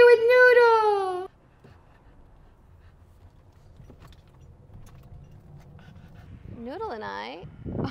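A dog at a dog park pants and whimpers near the microphone, with a high whiny vocal at the start and again near the end, quiet outdoor ambience and soft rustling between.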